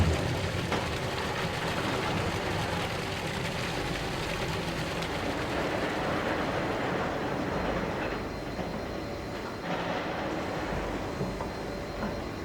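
The Furka steam locomotive rolls slowly toward the turntable, giving a continuous rumbling, clanking rail noise close by that stays steady throughout.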